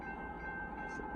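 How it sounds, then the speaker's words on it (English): A Union Pacific gravel hopper freight train passes at a distance, a faint steady rumble with a sustained tonal hum carried throughout, no voices present. "Here comes the Union Pacific gravel hopper car train this morning."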